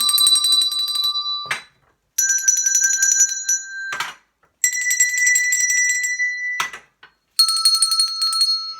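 Clear ringing hand bell tones struck one after another in a simple melody in a grade 1/2 music class, each note sustained before short pauses, bright and close.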